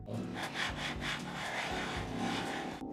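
A steady, gritty rubbing sound of a mouse sliding back and forth across a hard glass surface, continuous and close up with no talking.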